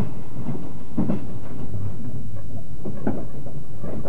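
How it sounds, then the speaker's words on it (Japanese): Yakumo limited express train rolling over railway points, a series of irregular low thumps and clacks from the wheels over the rails amid a steady rumble, close and fairly loud with no voices. "列車はポイントを通過し"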